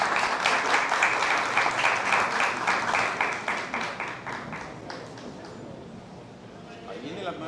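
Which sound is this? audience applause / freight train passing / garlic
audience applause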